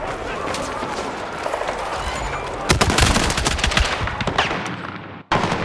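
Machine gun fire in the Battlefield 6 game, rapid bursts of close, loud shots crackling over combat ambience, with a brief drop to near quiet before firing resumes.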